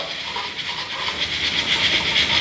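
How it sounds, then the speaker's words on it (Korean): An ice cube sizzles on a preheated frying pan, giving a steady close hiss with faint crackling that carries evenly throughout without pause. "얼음을 한번 제가 구워보는 거거든요"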